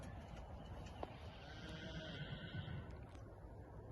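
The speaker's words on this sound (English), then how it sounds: "As you might be able to hear, the horses have been turned out for the summer" A horse whinnies faintly in the distance over steady outdoor wind noise, with a brief click partway through.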